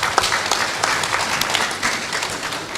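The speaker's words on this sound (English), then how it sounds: "Please, a round of applause for the panelists." Steady, full applause from the audience at a county assemblies legislative summit in Mombasa for the panelists, with many hands clapping evenly throughout and no talk.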